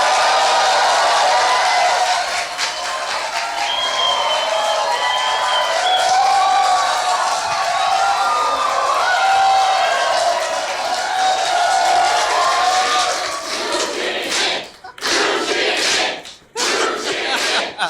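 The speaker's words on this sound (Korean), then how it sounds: "기립박수." A large audience rises in a standing ovation, with continuous loud clapping and cheering that swells for over ten seconds, then breaks up into a few scattered final bursts as it dies down.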